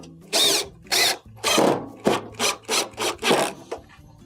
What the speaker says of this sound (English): Go around the perimeter and replace the other screws.